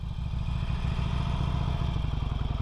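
A 2008 Harley-Davidson Sportster 883L engine runs steadily at close range, a deep low throbbing idle with a rapid pulsing beat and some mechanical clatter, no talk over it.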